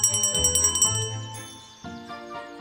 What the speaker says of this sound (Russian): Чтобы колокольчик зазвучал, его надо потрясти.